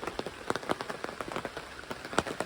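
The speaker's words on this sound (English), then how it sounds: "There's some heavy rain to the north, but we'll see how much of it winds up down here." Rain patters on a surface, likely a canopy, at a West Virginia campsite, dense irregular drops tapping close by at a quiet, steady level.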